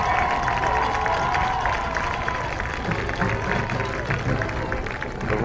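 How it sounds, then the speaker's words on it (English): Football crowd at a college game roaring after a touchdown, loud sustained cheering and applause filling the stands, with an announcer's voice faintly mixed underneath. "The roar of the crowd there says it all as Kolka piles in and gets the third touchdown of the game for the Blue Devils"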